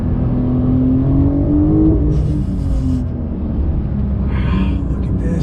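A 2021 Porsche 911 Turbo S engine roars loudly in second gear after a downshift, its pitch climbing under full throttle, then easing off with some high whine near the end.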